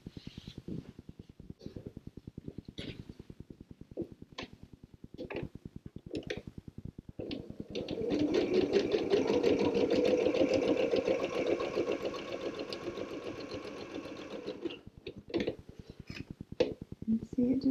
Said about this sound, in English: I just want to stitch a line across each row just as a little accent